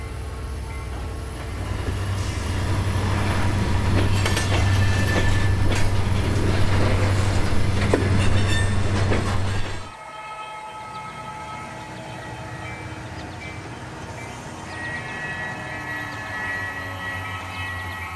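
An HO scale model freight train runs along its track, a steady rumbling drone with faint clicking and horn-like tones that drops abruptly to a quieter hum partway through.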